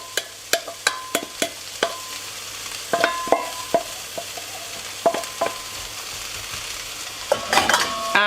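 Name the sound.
vegetables frying in a hot pan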